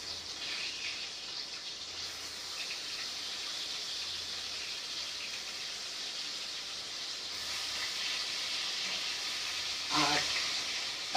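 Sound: frying in hot oil

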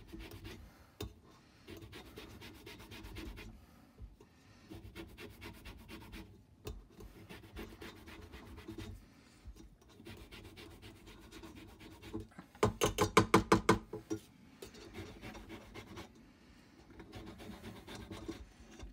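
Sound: grating orange zest with a zester

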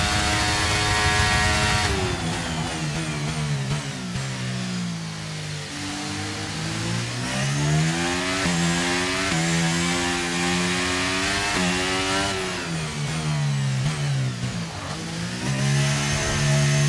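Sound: F1 car engine revving in pit stop, F1 23 video game

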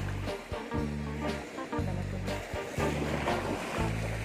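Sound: strong sea waves while fishing from a boat

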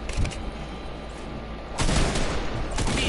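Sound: shotgun gunfire in a video game

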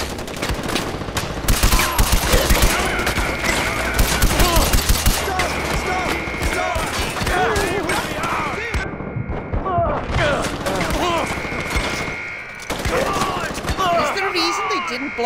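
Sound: gunfire in the video game Far Cry 4

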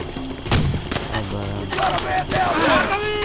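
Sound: gunfire in video game Call of Duty: World at War

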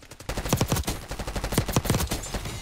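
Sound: pistol hipfire gunshots in Call of Duty video game

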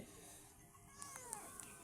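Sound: abandoned cat meowing

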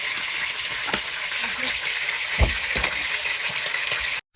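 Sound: chicken frying in a pan

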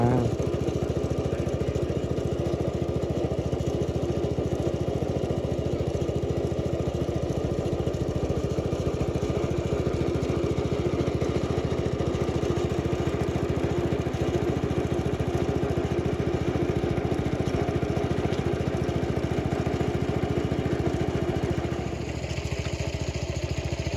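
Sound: water pump engine draining a pond

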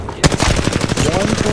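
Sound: gunfire in the video game Apex Legends

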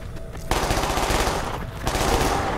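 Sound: automatic gunfire emptying a magazine in Escape from Tarkov video game

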